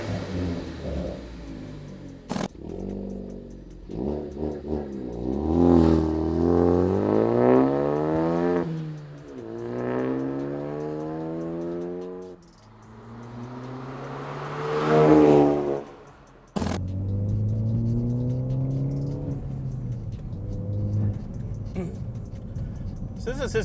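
A 2013-2018 Ford Focus ST with a Corsa Xtreme 3-inch stainless steel cat-back exhaust pulls away on the road, its engine rising and falling through several loud rev sweeps and gear changes, with a smooth, deep tone and brief pauses between shifts.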